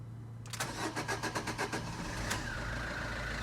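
A warmed-up 2014 Combo van engine cranks for about a second and a half with a rapid, pulsing starter sound, then catches and settles into a steady idle, heard close and with no talking.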